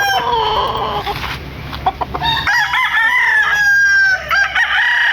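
A Gilmore bloodline gamefowl rooster crows loudly and close in a backyard, giving a couple of long wavering calls with some clucking and other fowl noise around them.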